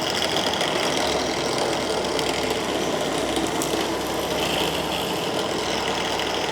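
A drilling machine runs steadily during woodworking, boring a hole at a marked point on a piece of wood, its dense motor drone loud and continuous throughout with no voices.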